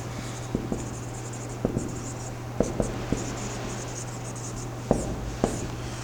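Chalk or pen writing on a board during a physics lesson on convection, heard as scattered faint scratches and taps over a steady low hum, with no talking.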